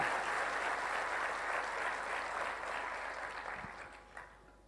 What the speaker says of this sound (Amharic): እባካችሁ ሞቅ ያለ ጭብጨባ።